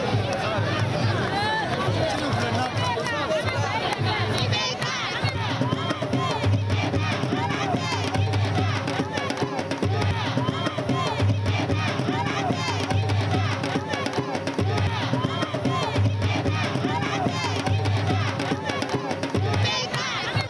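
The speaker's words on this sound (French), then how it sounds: "Dès l'entrée de la ville, Ibrahim Boubacar Keïta s'est offert un véritable bain de foule." A large outdoor crowd in Markala, Mali, greets the Malian president with continuous loud cheering, chanting and babble, dense and steady throughout, with a rhythmic drum-like pulse underneath.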